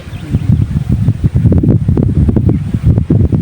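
Strong wind buffets the microphone at a lakeside tilapia fishing spot, a loud, rough, gusting rumble that swells and dips unevenly throughout with no speech.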